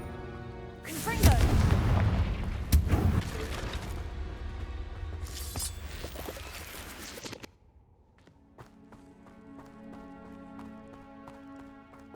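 Confringo spell blasts from the Hogwarts Legacy video game: two loud, rumbling explosive bursts in quick succession, followed by a quieter stretch with a steady tonal game score underneath.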